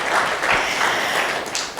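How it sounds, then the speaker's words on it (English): A room full of people claps for a speaker, a dense, sustained round of applause heard up close with no voices over it. "A better clap for Tom."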